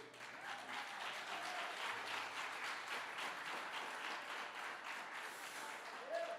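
Sustained audience applause during a talk, a continuous roar of many people clapping at even strength throughout, with faint voices underneath.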